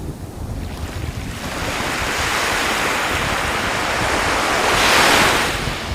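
Surf rolling onto the shore at Patenga sea beach, a steady broadband wash that swells louder toward the end, with wind buffeting the microphone throughout and no voices.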